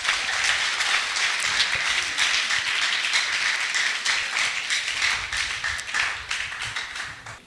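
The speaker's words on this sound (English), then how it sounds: "Clap for yourself for being here." Audience at a 40th anniversary celebration panel clapping for themselves, a steady wash of many hands applauding throughout, fairly loud and even, tapering slightly near the end.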